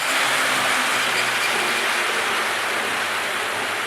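An Athearn DD40 model locomotive fitted with two motors, freshly cleaned, oiled and with polished wheels, cruises along with a steady, close whirring hiss that holds evenly throughout.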